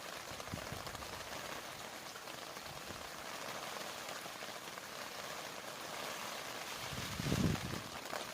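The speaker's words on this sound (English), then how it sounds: "Supposed to have rain until about 1 o'clock." Rain patters steadily in a soft, continuous hiss on a Halloween morning, with a brief louder disturbance near the end.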